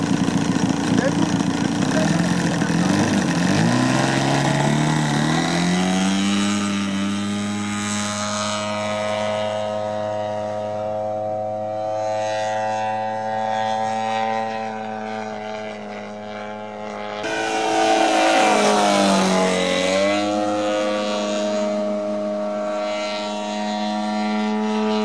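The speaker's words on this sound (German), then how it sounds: "Und auch die Motoren muss man ein bisschen warm laufen lassen." Model airplane engines warming up at an airfield festival, a loud buzzing propeller drone that rises in pitch, holds, dips briefly and then surges again, with people talking over it.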